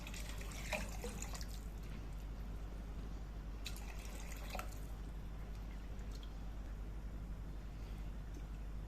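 Water poured into a pot of lentils while making koshari, a faint, quiet trickle and splashing with a couple of brief louder pours over low background hum.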